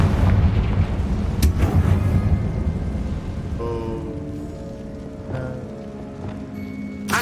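A Confringo fire spell bursts in Hogwarts Legacy, a loud crackling, rumbling blast that fills the first few seconds and then fades into lighter debris and tonal game effects.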